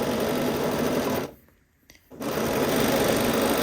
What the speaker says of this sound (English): And now we're going to sew the long edge here.